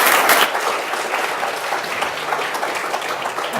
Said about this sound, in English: if we could have another round of applause for